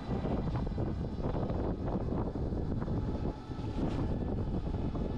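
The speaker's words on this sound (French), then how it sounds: "Il y a un léger bruit de moteur que je vais vous laisser écouter." A constant low whirring drone with a light mechanical rattle runs steadily throughout, faint and even: the drivetrain and chain of a NIU RQi 125 electric motorcycle turning under motion.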